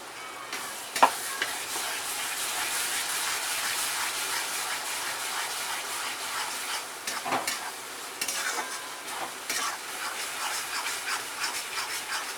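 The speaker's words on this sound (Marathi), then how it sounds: "त्याला चांगलं तेल सुटस्तोवर भाजायचं." Ground masala paste fries in oil for misal, giving a soft, steady sizzle with occasional stirring scrapes and small clinks, fairly quiet and close.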